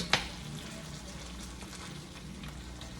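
Food frying in a pan on a stovetop as breakfast cooks, a steady close sizzle running throughout with one brief sharp clatter near the start.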